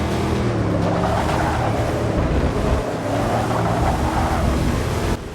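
A car engine in Forza Motorsport 6 roars continuously at high volume for a few seconds, a dense sustained drone with wind-like rushing over it and no talking.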